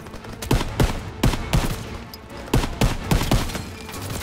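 Rapid bursts of World War II era gunfire in the Call of Duty WWII campaign, loud close shots in an uneven rhythm of roughly a dozen cracks, with no voices over them.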